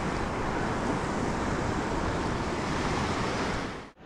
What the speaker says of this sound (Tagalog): Grabe, lalaki ng alon pa naman.